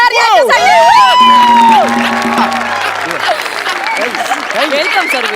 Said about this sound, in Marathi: एकदा जोरदार टाळ्या झाल्या पाहिजे ओंकार भोजने सर यांच्यासाठी